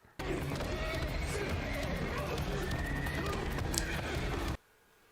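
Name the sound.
horses neighing during fight scene in movie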